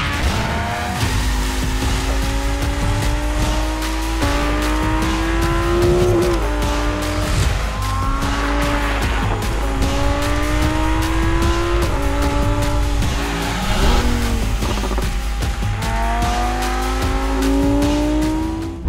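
A DDE Lamborghini sports car drives past loudly, its engine roaring and revving continuously with rising and falling gear sweeps and tire squeal throughout.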